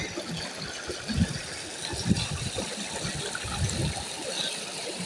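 Fast-flowing water rushes and gushes steadily with a low rumbling churn in a guava orchard in Multan, Pakistan, close by, with no voices over it.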